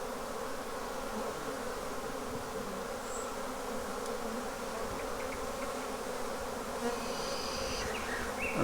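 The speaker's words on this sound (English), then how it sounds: "we're surrounded by bees" A swarm of roughly ten thousand bees surrounds the listener with a dense, unbroken buzzing drone, steady and close throughout with no voices.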